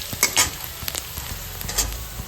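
Chopped onion fries in a pan, spiced with fenugreek, giving a close sizzle broken by irregular scraping stir clicks over a short stretch with no talk.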